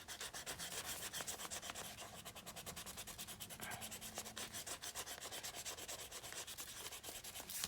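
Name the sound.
eraser rubbing writing off book page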